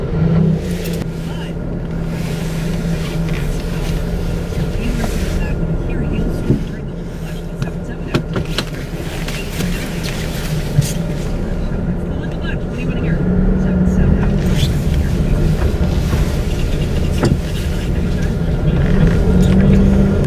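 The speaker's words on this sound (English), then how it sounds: "Traffic is pretty okay today. Like, it's pretty steady." A car driving home through steady traffic, its engine and road noise holding a continuous low rumble the whole time, with no voices over it.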